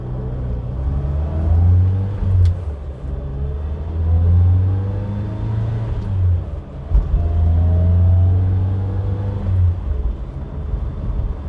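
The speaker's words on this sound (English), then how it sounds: "quite a lot of engine and transmission noise" Engine and transmission of a Mazda 1000 drone loudly and steadily while driving, the pitch rising and falling in long swells as the car accelerates and eases off, with a constant whine layered over the rumble.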